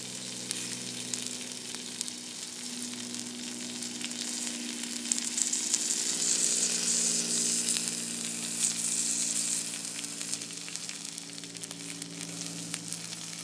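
Red squirrel legs frying in reddish-tinted oil, a steady soft sizzle with faint crackles that swells slightly midway and continues throughout, with no talking.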